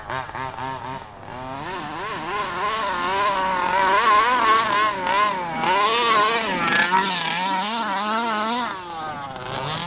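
A small engine on a Rovan (HPI) Baja RC buggy buzzes and revs continuously, its pitch rising and falling in quick waves as it is throttled up and down.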